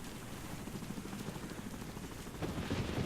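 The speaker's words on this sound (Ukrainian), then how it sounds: "Так, дощ тут. Вертоліт все літає." Steady rain hiss mixed with a low, throbbing helicopter drone in the zombie game Deadlight, a dense constant wash of noise that swells a little louder near the end.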